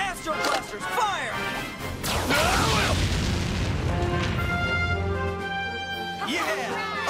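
Power Rangers In Space Astro Blasters firing, loud layered booms and zapping bursts that fill the whole stretch alongside shouting and busy action-scene sound.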